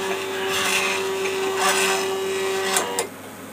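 A homemade CNC router with no Z-axis motor moves along its axes, giving a steady whining motor tone with a constant pitch and faint mechanical rasping for about three seconds before stopping.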